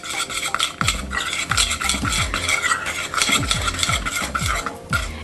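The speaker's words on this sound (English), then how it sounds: "I'm just gonna stir these together until they're nicely mixed" A spoon stirs a sticky energy-bite base sweetened with bee-free honey in a bowl, making continuous close scraping and clinking strokes in a quick, steady rhythm with no voices.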